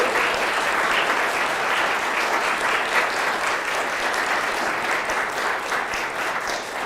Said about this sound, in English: Let's give Stacy and her crew a giant round of applause